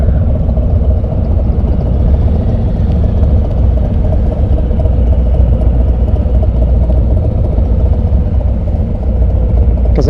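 A Harley-Davidson Road King motorcycle engine runs steadily, a loud, deep, continuous rumble held at a constant pace for the full ten seconds with no talk.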